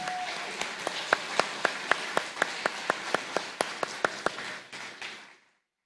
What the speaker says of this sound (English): let's give them one more applause and thank you for doing that